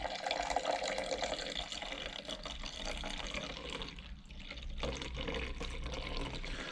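Water pours and splashes continuously back into a humidifier tank fitted with a filter, a close, gurgling trickle that rises and falls slightly in strength.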